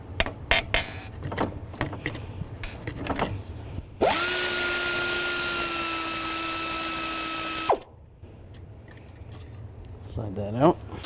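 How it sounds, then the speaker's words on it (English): A 12mm socket on a tool removes an alternator bracket bolt on a 2005-15 Nissan Xterra: scattered close clicks, then a steady loud whirring run of about four seconds that stops abruptly. "Use a 12mm socket, take this bolt out, and then the other bolt right there."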